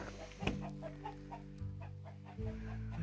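Chickens in a backyard chicken coop on a homestead cluck softly and intermittently at a distance, with faint low background hum and no talking.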